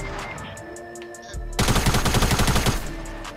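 Rapid automatic gunfire in the video game Fortnite, a dense burst of loud repeated shots after a brief lull of quieter in-game sounds.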